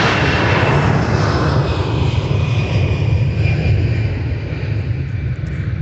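An Air France Boeing 787-9 Dreamliner on the runway at MSP airport gives off a loud, sustained jet engine roar with a steady broadband rumble and a faint high whine, slowly easing toward the end.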